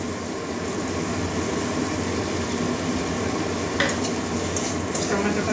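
Chopped medium tomato frying and being stirred in a pan with salt for a mushroom and drumstick-leaf dish, a steady loud sizzle throughout with a few brief scraping clinks of the spoon near the end.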